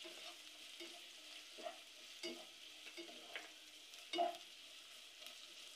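Ginger and garlic sautéing in a pan for a soya biryani, with a steady soft sizzle broken by several louder stirring scrapes and clanks, no talking.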